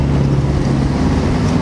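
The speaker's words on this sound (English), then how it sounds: "It sounds meaty as out, that Beamer there." A BMW M140i with twin exhaust gives a deep, steady, meaty engine rumble at close range, holding at an even loudness throughout with no voices.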